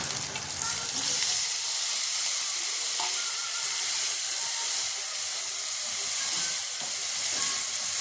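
Chopped taro hits a hot pan and sizzles steadily with a loud, continuous hiss and crackle that holds for the whole stretch, no voices over it.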